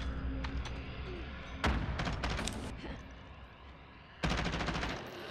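Rapid automatic gunfire from a Modern Warfare match comes in two sharp, loud bursts of rattling shots, separated by quieter background rumble and distant pops.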